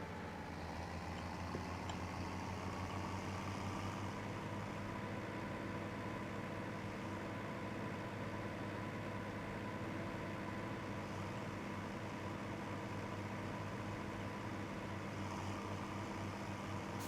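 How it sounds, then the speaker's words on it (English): An old, faded farm tractor idles in the Farming Simulator 17 video game, giving a steady, unbroken low engine drone with a dense rumble that holds constant throughout. "This is a tractor that has been with the farm for a while"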